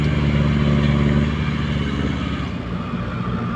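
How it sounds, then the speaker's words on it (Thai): Hino Mega truck engine idling loudly and close, a steady low diesel rumble with a slight clatter that eases a little toward the end. "มาแล้วครับเจ้า ฮิโนเมก้าครับ"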